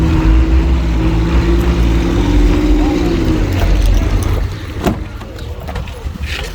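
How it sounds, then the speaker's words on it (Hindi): A vehicle carrying a water cooler machine rumbles loudly nearby as it drives off, its engine tone rising then fading into traffic and road noise, with a voice talking over it. "गाड़ी आपके सामने निकल चुकी है मशीन को लेकर"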